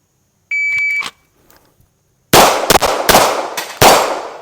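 Several loud, sharp rifle shots from an MPA DS9 Hybrid ring out close by in quick succession, each with a brief decaying tail, after a short electronic beep and near-silence.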